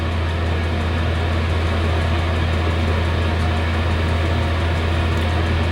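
Chinese diesel heater running, a steady, loud broadband roar with a strong low hum, unchanging throughout with no voices.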